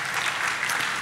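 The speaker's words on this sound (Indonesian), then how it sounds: "sekali lagi tepuk tangan buat Tuhan Yesus." Church congregation giving a round of applause to Jesus during a service, a loud, full burst of many hands clapping continuously without speech.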